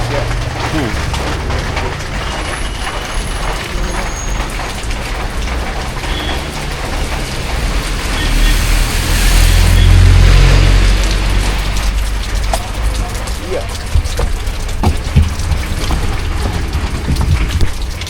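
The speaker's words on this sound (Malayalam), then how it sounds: "ചെറുതായിട്ട് മഴയൊക്കെ പെയ്യുന്നുണ്ട്" Steady light rain patters continuously at a fishing harbour, a soft hiss with a low rumble underneath that swells briefly midway.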